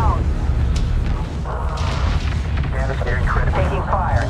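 A hostile frigate explodes in the space strategy game Homeworld 3, heavy booming blasts and rumbling weapons fire filling a dense, loud battle soundscape under radio-style voice chatter.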